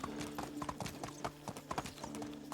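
Horse hooves trotting in the Medieval Dynasty video game, a steady rhythmic clip-clop running throughout, fairly close and alone with no talk.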